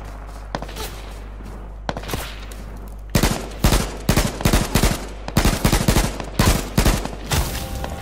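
Rapid bursts of gunfire in the video game H1Z1 Battle Royale crack out in quick succession, a couple of isolated shots first and then dense automatic volleys, loud and close.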